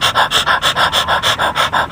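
A hit-and-miss stationary engine running on its miss cycle, panting in a steady rhythmic series of about a dozen loud, breathy, even pulses at close range, with no talk.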